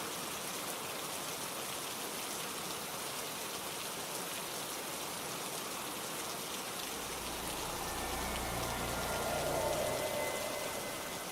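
Steady rain pours down in the dark, a dense continuous hiss with a low rumble swelling toward the end, no voices over it.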